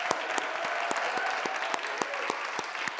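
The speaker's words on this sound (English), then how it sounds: "Let's give these contestants one more round of collective thunderous applause." A crowd at the Vermont State Finals of a poetry recitation contest applauds its finalists, with steady clapping filling the hall and a few sharp, close claps standing out.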